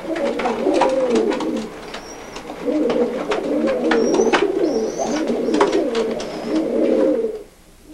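Old German Owl pigeon cooing nearby in repeated rolling, throaty phrases, with faint chirps and clicks from other birds in the loft behind.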